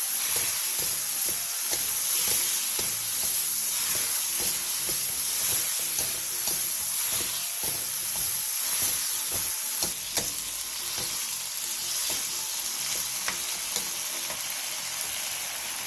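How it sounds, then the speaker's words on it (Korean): Eggplant stir-frying in oil with half of a seasoning sauce added, for a quick Korean side dish; a steady, close sizzle with clattering stirring runs throughout, with no talking. "가지에 기름이 골고루 스며들었으면 양념장 절반을 넣고 2분 정도 더 볶아주세요."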